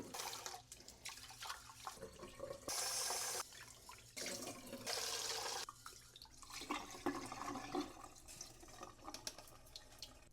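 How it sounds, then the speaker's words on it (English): Tap water runs and splashes over rice being rinsed in a pot or bowl in a kitchen sink, with steady gushing bursts that stop and restart as the grains are swirled and drained. "Washing the rice does remove some of the starches and things that help improve contact with the water, and also removes dirt."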